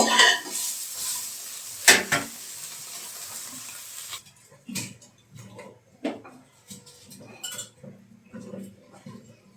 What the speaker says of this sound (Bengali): সয়াবিনগুলো দেখছি ভাজা হয়ে গেছে। সয়াবিনগুলো এবার নামিয়ে নেব।